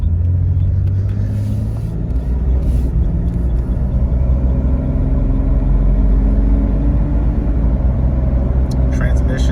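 A 2000 Jeep Cherokee Classic's engine hums with a steady low rumble while driving under light throttle, loud and continuous as someone talks over it inside the cabin.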